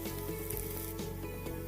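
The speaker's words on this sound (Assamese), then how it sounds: "এইখিনি অলপ সময় এনেদৰে ভাজিম" Ridge gourd peels fry in a pan over moderate heat, giving a steady close sizzle with light crackles throughout, no voices.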